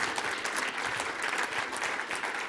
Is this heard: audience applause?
yes